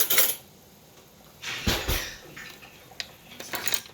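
Someone in a kitchen while making jelly rummages for a big spoon, with metal cutlery clinks and clatters in short bursts separated by quiet pauses, close and fairly sharp.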